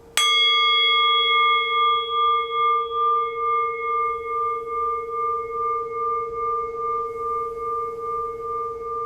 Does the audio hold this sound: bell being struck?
yes